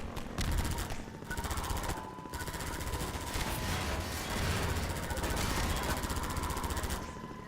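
Sustained, rapid automatic gunfire from the Half-Life 2 game rattles on densely for several seconds, loud and continuous with short gaps and a faint steady tone underneath.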